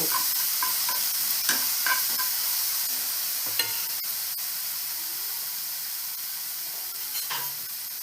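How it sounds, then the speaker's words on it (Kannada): Garlic and onion paste sizzles in a hot pan as it is stirred in for a chickpea curry. A steady close hiss is broken by scraping stirs, with no talk. "ಬೆಳ್ಳುಳ್ಳಿ ಜೊತೆಗೆ ಈರುಳ್ಳಿಯನ್ನು ನಾನು ಪೇಸ್ಟ್ ಮಾಡಿದ್ದನ್ನು ಹಾಕ್ತಾಯಿದ್ದೀನಿ. ಓಕೆ, ಇದನ್ನು ಕಲಿಸ್ಕೋಬೇಕು."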